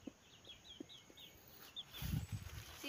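A grown hen, once a pet chick, gives several soft clucks spaced out over a few seconds, moderately close, with some louder low rustling or movement toward the end.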